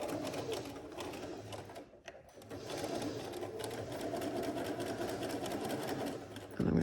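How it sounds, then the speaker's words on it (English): A Bernina B335 sewing machine runs a gathered seam with a steady, continuous motor whir and rapid needle patter, close and loud, with a brief pause near the two-second mark before the stitching resumes. "I'm only going to do a couple of stitches before I take out my second one"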